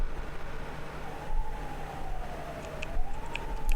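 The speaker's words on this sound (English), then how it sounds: "Wee-oo, wee-oo, more sirens." Siren from the PC-98 game E.V.O. The Theory of Evolution, a thin wavering synthesized tone gliding slowly up and down over a low hum, with a few faint blips near the end.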